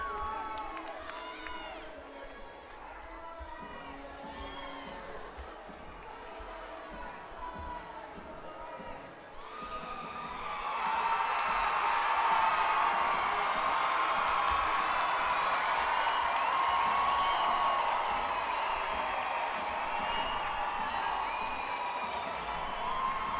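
Crowd cheering and applause at a college women's gymnastics meet during the bars rotation, hosted by Nebraska against Illinois State and Kentucky, rising to a loud sustained roar about halfway through after quieter arena murmur and talk.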